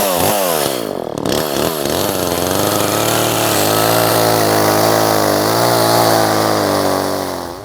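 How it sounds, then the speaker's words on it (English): A chainsaw revs up in a few quick bursts, then settles into a loud, continuous whine as it bites into a log being cut for wood carving, close and dominant throughout. "Chainsaw cut 101."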